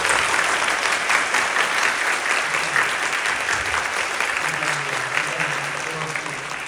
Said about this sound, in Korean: 감사와 영광의 박수를 뜨겁게 올려드리도록 하겠습니다